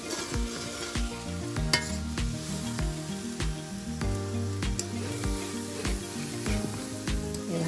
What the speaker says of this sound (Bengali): এবার চাল দিয়ে সুন্দর করে ভাজা করে দিয়ে হবে